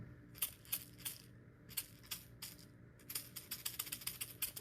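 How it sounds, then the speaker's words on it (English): A maraca being shaken in quick irregular bursts of bright rattling, fairly faint and close, with short pauses between shakes and no voices. "I think I know. It's a maraca."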